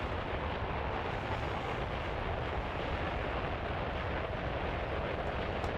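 Steady roaring rush of a rocket ride in World of Warcraft, Mists of Pandaria Classic, a loud, continuous broadband thrust that holds even and unbroken throughout with no voices.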